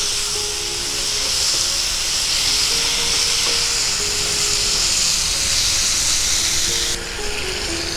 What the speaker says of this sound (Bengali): চিংড়ি মাছটা দিয়ে খুব ভালো করে কষিয়ে নেব